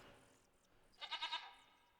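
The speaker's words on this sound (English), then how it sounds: "Sounds like some sort of goat. Feral goat." A feral goat in a hunting game gives a short burst of four quick, wavering bleats, fairly close and clear against a quiet, soft outdoor ambience.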